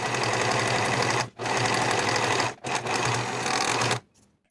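A sewing machine stitching along the raw edge of shirt fabric, running in fast continuous bursts with two brief pauses before stopping, loud and close with no talk.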